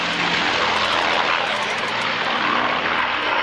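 A Spitfire's piston engine roars loudly and steadily at the 1993 RAF Waddington airshow, a broad, constant drone that dominates without letup.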